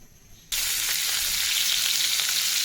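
Loitta fish hits a hot pan and starts frying with a sudden, loud, continuous sizzle that holds steady and close after a brief quiet moment of kitchen background.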